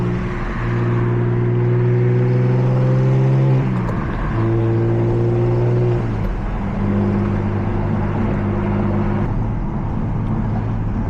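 A single-turbo BMW F80 M3 engine revs up through rising gear pulls, dropping pitch between shifts, then settles into a steady cruising hum; heard from inside, loud and close.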